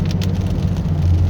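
Rain drums on a car driving a mountain highway during a storm, mixed with the low road hum of the moving vehicle; steady, close and fairly loud, with a few brighter spatters near the start.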